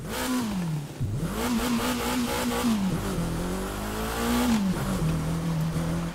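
A KTM car in The Crew 2 racing game drives with a loud, steady engine drone that revs up and down in repeated swells, its pitch dipping briefly between gear changes. No voices are heard.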